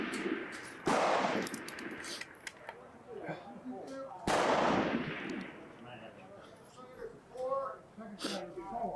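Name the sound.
rifle gunshots at a long-range shooting match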